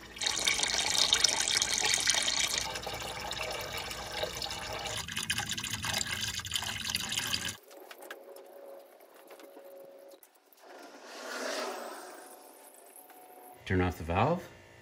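Coolant runs and splashes from an opened drain valve on a 1931 Ford Model A pickup, a steady liquid rush that thins into trickles and drips, with a person talking near the end.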